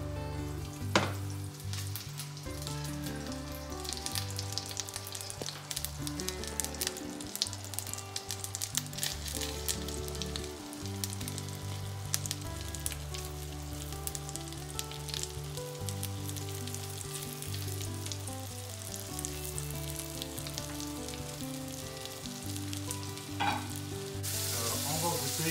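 Bite-sized cod pieces roasting in hot oil in a pan, a continuous close sizzle and crackle lasting throughout, with frequent small pops and a strong repeating background pattern underneath.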